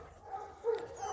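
A dog confined in a kennel box at an animal refuge gives a couple of short, muffled barks and whimpers, fairly faint against a quiet room.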